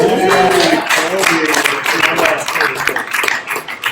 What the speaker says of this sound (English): I just want to give a round of applause to our awesome organizer